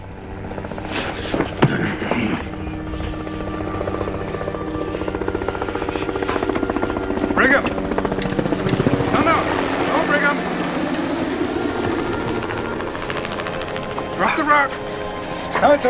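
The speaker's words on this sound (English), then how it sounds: "It's just a helicopter." Steady rotor chatter of a helicopter flying overhead in a canyon, loud and continuous throughout, with people talking over it.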